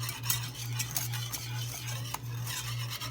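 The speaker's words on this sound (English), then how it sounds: "You just want to stir it till it gets smooth" A spoon stirs melting caramel in a pot on the stove for a caramel cake, with steady scraping and clinking against the pan over a constant low hum, close up and with no talking.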